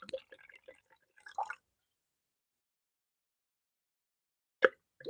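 Wine trickling and splashing through an aerator into a glass in a quiet room, a few short wet plops and drips at the start, then near silence before one brief splash near the end.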